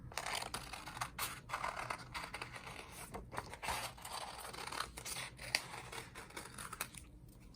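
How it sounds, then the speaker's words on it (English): Scissors snip through green paper while cutting out a paper snake head for an accordion snake craft, a series of crisp, irregular cuts and rustles close by. "we can just cut that out"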